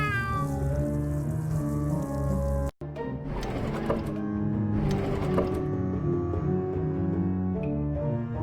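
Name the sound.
cat meowing in a video game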